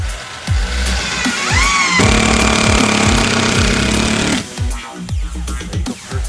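A screw gun drives a screw into basement wall framing, its motor whining up in pitch and then holding a steady, loud drone for about two seconds, with dull knocks and handling thumps around it.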